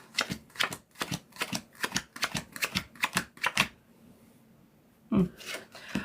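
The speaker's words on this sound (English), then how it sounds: "Get a new shuffle on this deck and some new energy in it." A tarot card deck is shuffled in a quick run of crisp riffling bursts, then a pause and a final card snap, recorded close up without talk.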